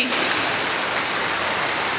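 Heavy rain pours down in a dense, steady hiss, filling the whole clip without pause.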